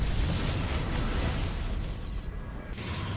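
Dense, continuous rumbling blasts and crunching impacts from StarCraft 2 cannons shelling a Tempest, a loud wall of overlapping explosions with no voices.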